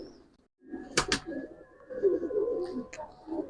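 Pigeons coo softly and repeatedly at close range, low throaty calls rising and falling, with a couple of brief sharp flutters or clicks.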